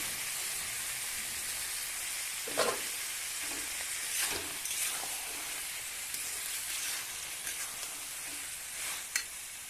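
Jackfruit and shrimp curry cooks in a pan with a soft, continuous sizzle and hiss, broken by a few brief stirring knocks and scrapes, fairly quiet and close with no talking.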